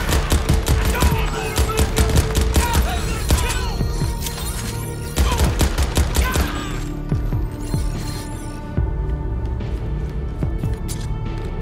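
Rapid automatic gunfire from the video game Crackdown 3, loud, dense bursts of shots with short pauses, heavy and close throughout, with game effects and a voice underneath.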